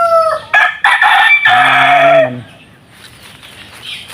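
A black Australorp rooster crows once, loud and close, a drawn-out call followed by quieter background sounds.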